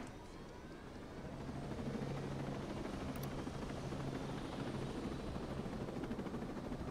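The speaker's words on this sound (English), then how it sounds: "Escort Madeira to the helicopter." Helicopter in the video game Ghost Recon Breakpoint, a steady loud rotor and engine drone with a low thumping pulse that holds throughout, swelling slightly after the first second, with no talking.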